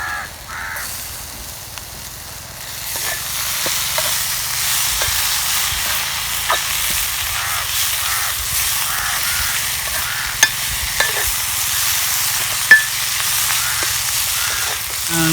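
Tomatoes frying and being stirred in a pan outdoors in a casuarina grove, a loud steady sizzle with scraping stirs and crows cawing nearby.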